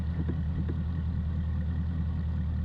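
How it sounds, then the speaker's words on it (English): A boat's outboard engine idles rough and uneven on a small grassy lake, as if close to stalling. The low, steady drone carries a faint irregular pulsing and is heard up close with no talking. "Engine sounds like it's about to die"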